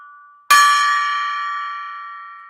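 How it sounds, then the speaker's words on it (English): A golden gong is struck once, giving a sharp bright strike followed by a long, shimmering metallic ring that slowly decays, heard alone and close. "Let's ring the golden gong"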